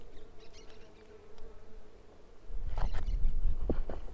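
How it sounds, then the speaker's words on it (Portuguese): A cricket in a preserved dryland scrub habitat, heard as faint buzzing insect chirps in the background that give way after a couple of seconds to louder close rustling and scattered clicks. "Um grilo."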